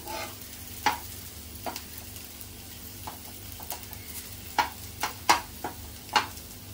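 Okra (bhindi) shallow-frying in a little oil on a flat tawa, a steady soft sizzle broken by intermittent sharp clicks and scrapes of stirring, close and with no talking.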